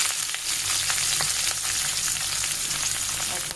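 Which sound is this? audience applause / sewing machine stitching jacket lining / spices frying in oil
spices frying in oil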